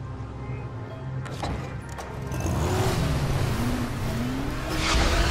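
A car engine in the Dying Light video game hums steadily and rises in pitch as the vehicle accelerates, fairly loud and continuous with no talk over it.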